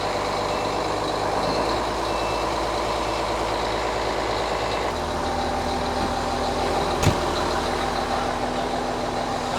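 A Prinoth Peste snow groomer fitted with an eight-way blade and quick hitch runs with a steady, dense engine drone, continuous and fairly loud throughout, with one brief sharp knock partway through and no talk.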